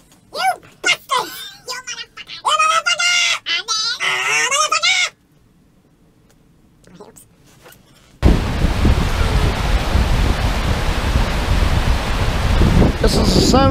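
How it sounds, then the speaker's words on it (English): River water rushing steadily beside tents at a wild camp, a loud broadband wash filling the last few seconds after earlier talk and a quiet pause. "This is the sound of the river."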